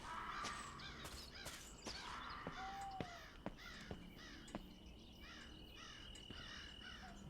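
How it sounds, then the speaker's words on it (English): Several crows and ravens caw repeatedly at a distance over a steady chirring of insects in the video game Ghost Hunters Corp, with sharp clicks scattered throughout. "You hear the cawing. Those are crows and ravens."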